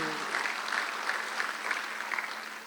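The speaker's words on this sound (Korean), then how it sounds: "박수 한번 돌리시기 바랍니다" Congregation applause in a church during a Sunday worship service: steady, fairly soft clapping from many hands, held at an even level for a few seconds.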